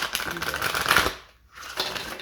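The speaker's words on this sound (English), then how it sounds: "What a bad shuffle. Let me try that again." A deck of tarot cards being shuffled, a dense papery riffle and rustle that pauses briefly, then resumes, fairly close and clear with no talking.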